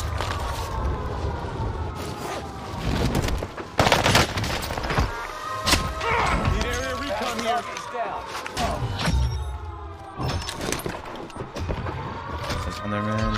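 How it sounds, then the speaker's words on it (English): Close-range SMG gunfight in Call of Duty Warzone on Rebirth Island, with rapid automatic bursts and sharp single cracks trading back and forth, loud and near, over game effects, with a voice talking at times. "Yeah, that was a close gunfight there."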